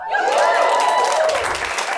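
Audience applause and cheering at a stand-up comedy show, a loud continuous crowd roar sustained for the full two seconds, with a host's amplified voice carrying over it.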